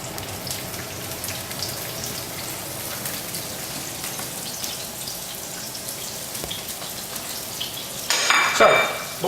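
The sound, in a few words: sliced onion frying in oil for spicy pork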